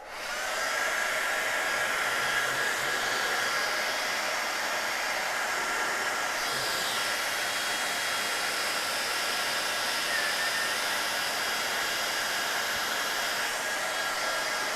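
A hair dryer blows steadily for about fifteen seconds, drying freshly painted rocks, a constant close airy whoosh with no break and no voices.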